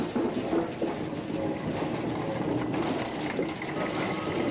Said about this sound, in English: On his own, Thomas slowly crept past the landslip.